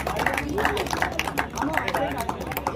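Audience at a trophy award ceremony in Bhagalpur clapping loudly, a dense sustained crowd applause with overlapping claps, while an announcer speaks over it.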